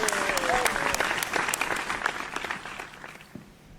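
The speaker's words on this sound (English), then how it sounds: "A round of applause as he exits the stage." A crowd applauds as a guest leaves the stage at a singing competition show, the clapping starting strong with a brief whistle and then gradually thinning and fading out.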